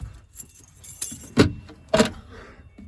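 A bunch of keys jangling near a fire alarm system during a test, a few short metallic clinks and rattles in quick bursts, close and moderately loud over a low background hum.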